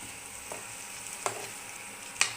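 Broccoli with black pepper powder lightly roasting in a hot pan gives a steady soft sizzle, broken by a few brief stirring scrapes near the middle and end.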